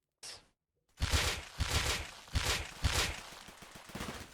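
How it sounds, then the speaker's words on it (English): Headshot gunfire in the video game Rust: a short crack, a pause, then a burst of loud shots in quick succession with a rough, rolling rhythm. "Ah, yes, headshot sounds. Rust headshots, amazing."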